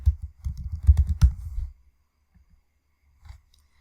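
Computer keyboard typing out an email, a quick close burst of soft key clicks for under two seconds, then near silence with a couple of faint isolated taps.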